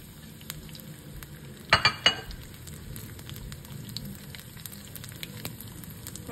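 Garlic dropped into hot tempering oil already holding mustard seeds, cumin and dried red chilies for a dal: a short burst of loud crackling spatters, then a steady low sizzle underneath.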